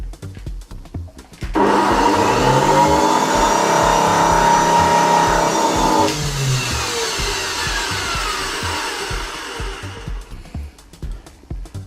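Samsung SC4590 vacuum cleaner motor, partly dismantled, switches on abruptly and runs with a loud steady whine, then drops to a lower, rougher hum as the rotor slows before cutting off near the end.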